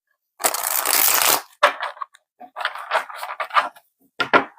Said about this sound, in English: Let me just shuffle them one more time.